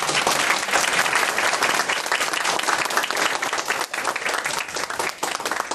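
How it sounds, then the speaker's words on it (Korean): Sustained applause from a large crowd, dense and loud, many hands clapping steadily for several seconds without pause. "다시 한번 우리 뜨거운 박수로"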